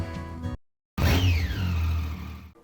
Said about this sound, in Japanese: 自分に排気音が聞こえるっていうのはとても気持ちいいですもんね